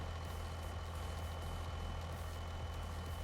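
A truck engine in Farming Simulator 25 on a Brazilian map, idling with a steady low rumble and continuous drone, even and unbroken, with no voices over it.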